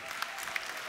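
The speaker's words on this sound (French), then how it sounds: "Et applaudissements pour Marie-Noëlle Lienemann" A crowd applauds Marie-Noëlle Lienemann at a social housing (HLM) gathering: a steady, dense wash of clapping with a few sharper claps standing out, no voice above it.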